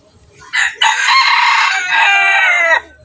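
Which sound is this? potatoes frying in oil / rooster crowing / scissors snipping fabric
rooster crowing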